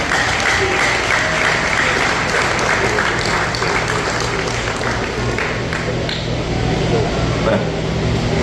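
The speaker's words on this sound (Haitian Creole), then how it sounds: "On applaudit fort." A crowd applauds loudly and steadily throughout at an awards-style gathering for police in Haiti, where seized cartridges and weapons are on display, with dense continuous clapping and a low hum underneath.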